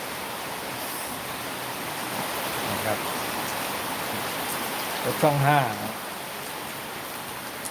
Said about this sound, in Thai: ฝนมันตกเอง